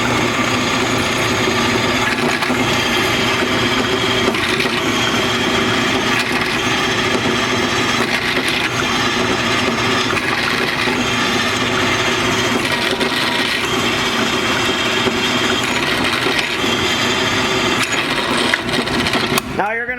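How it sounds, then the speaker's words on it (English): Continuous grinding and whirring of a drill boring into a metal John Deere mower deck adjustment arm, steady and loud for the whole stretch, with a voice talking over it. "Now you're going to drill down about 3/8 of an inch."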